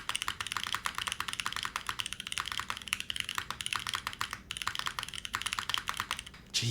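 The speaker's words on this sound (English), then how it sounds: "Jeez, that's a loud spacebar." Rapid clacky typing on an 1800-layout mechanical keyboard with Boba U4T switches and GMK DMG keycaps, close and continuous, with a few heavier, deeper thumps from the loud spacebar between bursts of keystrokes.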